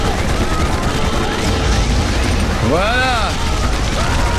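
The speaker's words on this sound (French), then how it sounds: "La base a explosé." Explosions and gunfire in the helicopter rescue game Choplifter HD as a base blows up, a dense continuous roar of blasts and shots with rising and falling whistling tones, while someone talks briefly over it.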